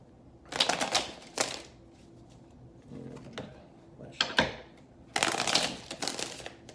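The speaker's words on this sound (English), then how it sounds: "I love how this deck shuffles." Crisp riffling bursts of a card deck being shuffled, several quick ruffles with quiet handling in between, close by.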